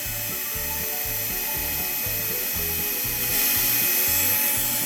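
Drill bit fitted to a screwdriver handle, twisted by hand into a workpiece to start a pilot hole, producing a steady series of about ten rhythmic ratcheting clicks, close and moderately loud, with no talking.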